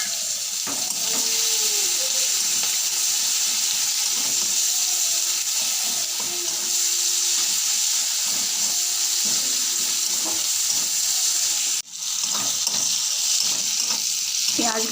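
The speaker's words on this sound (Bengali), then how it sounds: "পেঁয়াজগুলো ভাজা ভাজা হয়ে গেছে" Chopped onions sizzle steadily in a pan with bay leaf and cumin, a dense continuous frying hiss with occasional stirring scrapes and a brief clatter near the end, no talking.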